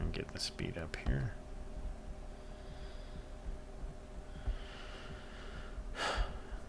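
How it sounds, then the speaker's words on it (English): A character in the space game Hellion breathes heavily and raspily, with gasps and snorts close up under a low background hum and a few clicks, the sound laboured and irregular. "Listening to that breathing makes me feel like I've got like a respiratory disease"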